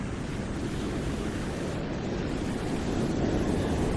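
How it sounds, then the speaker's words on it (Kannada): Rough sea waves crash and churn in a steady, loud roar, with heavy rain in a stormy coastal scene, the dense wash of noise continuing without a break and swelling slightly toward the end. "ಅಲೆ ಜೋರಾಗಿದೆ."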